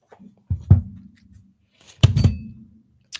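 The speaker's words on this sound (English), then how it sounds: "those cards really wanted to be shuffled. They literally just fell." Tarot cards tumbling from the deck during shuffling land with two soft, dull thumps about a second and a half apart, each followed by a brief rustle, close by in an otherwise quiet room.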